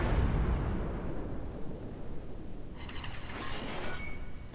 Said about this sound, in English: And yeah, we're throwing out our first airstrike.